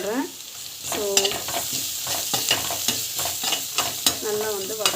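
Chana dal sautés with turmeric in a pan, a loud nearby sizzle with frequent scraping, clicking spatula strokes and a few squeaky scrapes against the metal.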